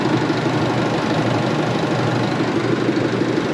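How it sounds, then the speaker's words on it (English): An Isuzu MU-X engine idles after starting with a freshly fitted battery, a steady low rumble with a faint mechanical tick, close and even throughout. "Now I'll just start the vehicle up and we'll check the charge rate."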